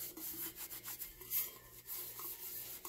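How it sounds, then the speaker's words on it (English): A towel dampened with acetone wipes a sanded glitter tumbler, giving soft repeated rubbing strokes that are quiet and close with faint background hum. "And then I wipe my cup clean."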